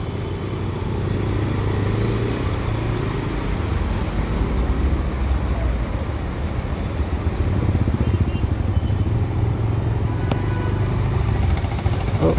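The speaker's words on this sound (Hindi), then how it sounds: "पानी का प्रेशर इतना ज़्यादा आ रहा है, पहिए भी मुड़ जा रहे हैं" A motorbike pushes through deep, fast-flowing floodwater from a risen Yamuna in Delhi, its engine droning loudly and close under constant water rush and splashing for the whole stretch.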